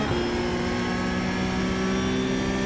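A Porsche 992 GT3 Cup engine at full throttle in the iRacing sim at Fuji, heard as a steady, loud, droning tone held nearly unchanged throughout, with no speech over it.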